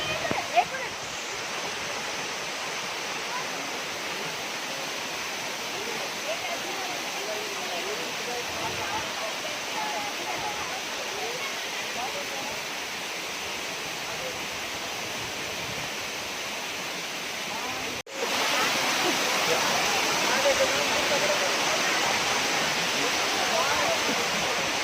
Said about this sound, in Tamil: ஜோகரி ஃபால்ஸுக்கு இன்னொரு நேம்னு சொல்லுவாங்க, பட்டர் மில்க் ஃபால்ஸ்னு சொல்லுவாங்க